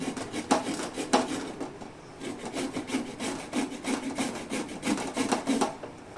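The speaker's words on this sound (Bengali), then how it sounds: "এবারে এই গাজরটাকে আমি এই গেটারে ভালো করে ঘষে নেব" A carrot grated on a small kitchen grater, rapid repeated rasping strokes, close and steady.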